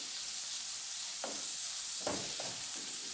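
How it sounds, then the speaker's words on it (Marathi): Onions frying in a pan until pink for a Malvani prawn curry, a steady low sizzle with a few brief stirring scrapes of a spoon. "आता कांदा व्यवस्थित भाजून घेते गुलाबी होईपर्यंत"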